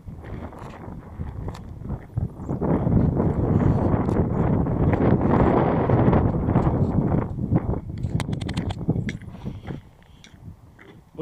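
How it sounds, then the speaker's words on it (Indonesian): Strong autumn wind buffets the microphone on a hillside hike in Turkey, rising into a sustained loud rumbling gust midway before easing off, with a few scattered clicks and knocks. "Karena anginnya mulai kencang."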